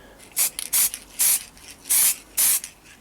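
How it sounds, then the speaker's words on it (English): An aerosol spray can paints a part of a Millennium Falcon scale model in five quick, close, hissing bursts separated by short pauses. "So it's just a quick neat spray"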